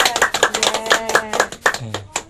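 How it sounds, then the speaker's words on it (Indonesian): A burst of hand clapping from a small group, steady and fairly loud, with scattered uneven claps fading toward the end. "Berikan tepuk tangan yang meriah"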